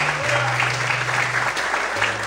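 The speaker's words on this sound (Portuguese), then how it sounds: "Mais forte as palmas para Deus." A church congregation claps for God during a sermon, a dense, continuous roar of applause from a large crowd with a low sustained musical tone underneath.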